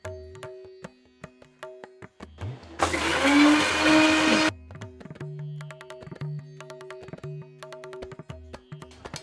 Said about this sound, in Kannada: ಶುಂಠಿ, ಬೆಳ್ಳುಳ್ಳಿ, ಧನಿಯಾ, ಜೀರಿಗೆ, ಹಸಿ ಮೆಣಸಿನಕಾಯಿ, ಇದನ್ನ ನಾನು ರುಬ್ಕೋತೀನಿ.